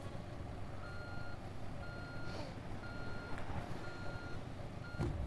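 Construction machine in Construction Simulator 3 backing up, its reversing alarm beeping at a steady, evenly spaced rhythm over a low diesel engine rumble, fairly quiet, with no speech.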